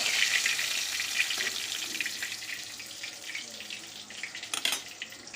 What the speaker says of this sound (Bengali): যে মাছগুলো বাকি ছিল ওইগুলো এখন ভেজে নেব